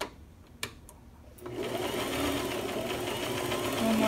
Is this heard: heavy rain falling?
no